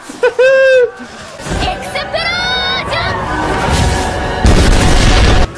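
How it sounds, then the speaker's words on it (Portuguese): Grenades explode in a tribal battle in the game Spore, giving deep booms amid chaotic fighting noise, with voices shouting and chattering over the loud, busy mix. "eu vou atacar umas granadas aqui"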